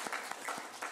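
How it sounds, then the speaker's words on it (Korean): A church congregation gives a brief round of applause, a quiet burst of clapping with a few distinct claps standing out over about a second. "우리 하나님께 영광의 박수를 돌리도록 하겠습니다"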